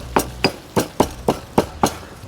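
Roasted whole spices, including cardamom, pounded in a mortar and pestle for a peppered kangaroo loin rub: seven sharp, evenly spaced thuds, close and fairly loud, with no talking.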